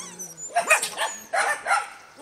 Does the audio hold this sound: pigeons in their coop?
no